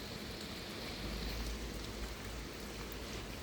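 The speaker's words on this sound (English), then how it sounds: "all that dirty water now goes down the pipe onto the garden here" Dirty water drained from a koi pond pours steadily through a pipe onto a garden, giving a continuous close splashing rush with no speech.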